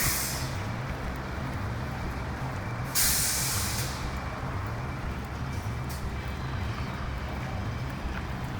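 A city bus in Japan idles with a steady low engine rumble, and a sharp burst of air-brake hiss rises briefly near the middle before the drone settles again; no one speaks.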